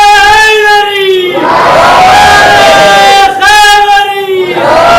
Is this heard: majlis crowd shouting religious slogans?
yes